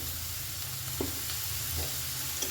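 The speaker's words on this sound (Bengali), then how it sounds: "ভালো করে একটু নেড়ে নেড়ে আমি ভেজে নেব" Breakfast mixture seasoned with salt and black pepper sizzles and frying in a pan while being stirred, a close steady hiss with a couple of soft scrapes, no voices.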